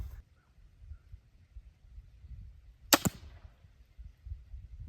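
A CenterPoint Amped 425 crossbow fires once, making a single sharp, loud snap with a quick trailing thud. Near silence surrounds the shot.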